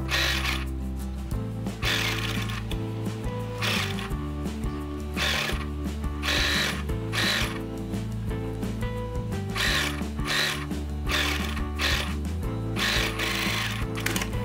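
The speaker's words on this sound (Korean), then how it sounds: "카라 테두리를 따라서 한번 살짝 상침해서 고정을 시켜 줄게요" A sewing machine topstitches along the edge of a collar on a child's check-fabric outfit. Close, rhythmic mechanical stitching comes in repeated short bursts over soft background music, with no speech.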